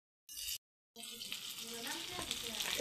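Fish frying in a pan in a village kitchen, a steady sizzle rising after a couple of brief bursts and a short pause, close and moderately loud.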